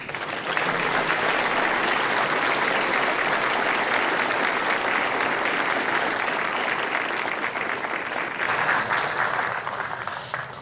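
A Senate chamber crowd gives General Villas Boas sustained, dense applause, many hands clapping in an even roar that holds steady for about ten seconds before easing slightly at the end.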